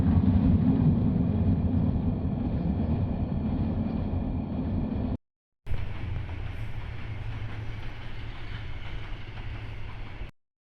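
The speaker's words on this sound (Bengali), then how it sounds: "ট্রেন আইতেছে।" A train rolls past with a loud, steady rumble that drops out briefly midway, then resumes and continues before stopping abruptly.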